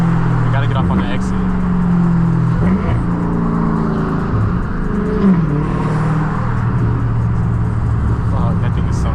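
A roughly 1000-horsepower Dodge Hellcat engine rumbles and revs hard while weaving through rush-hour traffic. The drone is loud and steady, with pitch swells as it accelerates, under ongoing talk from people inside the car.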